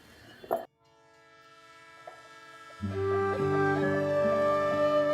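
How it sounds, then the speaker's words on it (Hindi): A train passing close by with a long, loud, sustained horn blast rising in strength, following a brief knock and a quieter rumbling lead-in. "तू क्या आती जाती ट्रेनों को देख रही है?"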